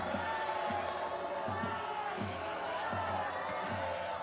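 Crowd noise at a professional beach volleyball quarter-final in Brazil, a broad steady roar of spectators with a repeating low thump throughout.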